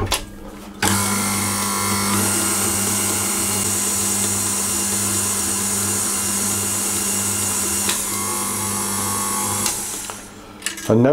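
An electric stand mixer kneads bread roll dough in a continuous loud motor drone with a steady low hum, starting abruptly and fading near the end as it stops.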